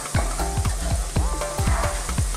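Cubes of aubergine sizzle loudly in hot oil while a spoon or spatula stirs them, giving quick, uneven scraping strokes against the pan over a steady crackle.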